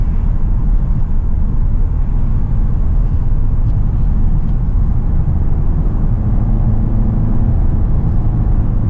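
A 2019 VW Arteon R-Line with all-wheel drive cornering on dry roads, heard from inside the cabin as a loud, steady low rumble of engine and road noise without voices.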